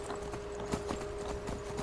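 Horse hooves clip-clop in a steady walking rhythm in the Skyrim video game, close and moderately loud over a constant background hum, with no talk.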